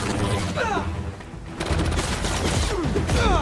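Bursts of rapid gunfire and booming impacts crackle through Spider-Man 2 gameplay in dense clusters, with a brief lull before a second volley.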